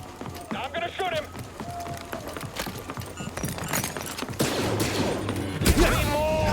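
Blaster fire and combat in a Star Wars Jedi video game, with rapid bursts of shots and thuds layered over game music and effects, growing denser and louder toward the end, while voices talk over it.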